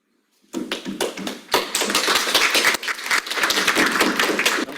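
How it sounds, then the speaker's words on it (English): Audience applause breaking out at the close of a church talk on same-sex attraction, a sudden burst of many hands clapping that swells and stays dense and steady for several seconds, close and loud. "Don't clap yet, we still have Q&A."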